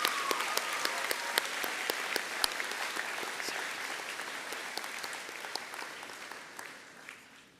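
At a high school graduation ceremony, a hall audience claps for a row of graduates: sustained, fairly distant applause with distinct nearby claps, gradually tapering off toward the end.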